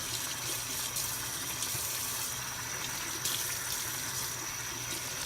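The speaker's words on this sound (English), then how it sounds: "Rinse this all out." Tap water runs steadily into a sink while a cleaned fish is rinsed, a close, continuous hissing splash with small changes in the flow and no talking.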